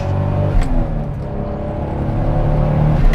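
A Toyota Supra Mk4 with a 2JZ-GTE turbocharged engine, fitted with Yokohama tires, revs hard in a short burst of close, loud engine drone with a couple of sharp transient spikes, with no voices.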